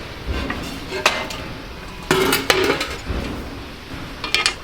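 A scrap piece of aluminum is handled close by, giving a few sharp metallic clinks and clatters in short bursts against a quiet background.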